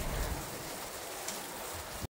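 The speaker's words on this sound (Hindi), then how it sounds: "बहुत तेज बारिश लगा हुआ है" Heavy rain falls during a stormy, cold spell on a trip between Guwahati and Shillong, a dense, steady hiss close by with no talk, ending abruptly.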